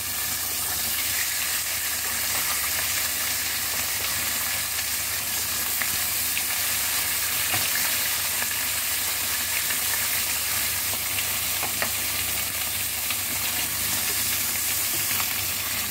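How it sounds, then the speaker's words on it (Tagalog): Fish frying in hot oil: steady, loud sizzling and crackling, a continuous hiss with occasional pops throughout. "Prito natin yung ating isda."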